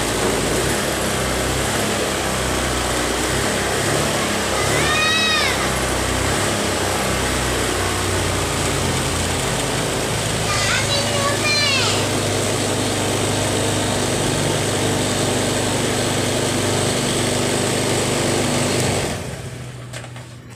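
A Honda Vario motorcycle engine runs with a continuous, high-pitched buzz close by. Two short whining bursts come through partway, then the engine cuts off at the end.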